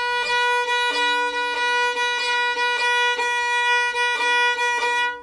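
Short chirpy grace-note ornaments in Irish traditional style, played as quick flicks on a sustained melody note, recurring in a steady rhythm, close and clear with no talking.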